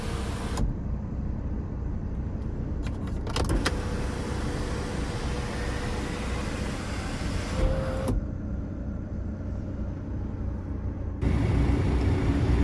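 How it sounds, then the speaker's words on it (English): A BMW 330e plug-in hybrid's power sunroof running inside the cabin, with a steady electric motor whir and mechanical hum that starts, carries on for several seconds, pauses, then resumes. "your power sunroof, which works as intended"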